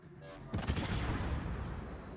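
Naval guns fire in World of Warships during a Castilla versus Hindenburg battle, a single heavy boom followed by a rolling, rumbling echo that fills the short moment.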